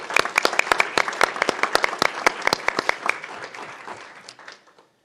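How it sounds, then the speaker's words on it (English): A crowd at a Board of Education meeting claps steadily for several seconds, then the applause thins out and fades to silence. "we'll give her a round of applause"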